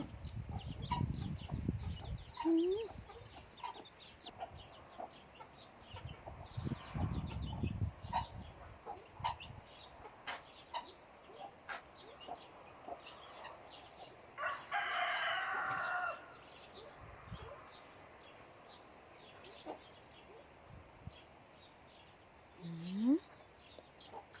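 A pheasant hen clucks while protecting her chicks, with short fowl calls scattered across a quiet outdoor scene, a person speaking at times and once imitating the clucking.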